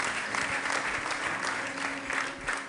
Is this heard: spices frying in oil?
no